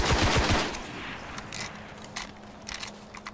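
Rapid bursts of gunfire in the video game Destiny open loudly, then fade to scattered single shots and mechanical clicks over a quieter game background.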